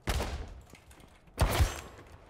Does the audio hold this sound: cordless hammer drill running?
no